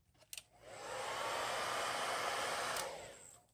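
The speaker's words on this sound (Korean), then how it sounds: "이 부분은 헤어드라이기로 가열하고" A hair dryer whirs on after a couple of clicks, heating a skin being applied to an IQOS 3 device, blowing a steady, loud airy roar for a few seconds before switching off.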